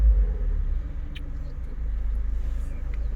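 A car with a manual gearbox rumbles low during a driving lesson, its engine giving a faint, steady drone that swells slightly as it accelerates. There is no talk over it.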